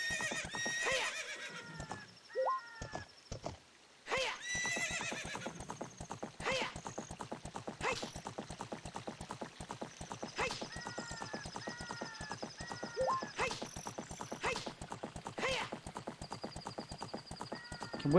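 A horse whinnies several times over a steady, rapid clip-clop of galloping hooves in The Legend of Zelda: Ocarina of Time on N64, with faint background music and effects.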